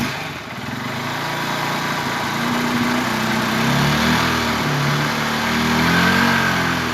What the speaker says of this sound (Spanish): Ahora vamos a arrancar la motocicleta, la vamos a llevar a 5000 RPM.